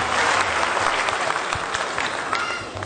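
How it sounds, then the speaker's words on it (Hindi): An audience claps loudly, many hands together in a thick, continuous burst with a few sharper claps standing out, tapering slightly near the end. "एक बार जोरदार तालियों से स्वागत किया जाए सर लोग का"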